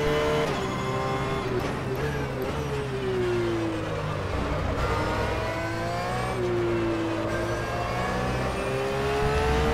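A Porsche 911 GT3 racing around Silverstone in rFactor, its engine droning loudly and continuously near at hand, the pitch sweeping up and down through gear changes and braking into corners.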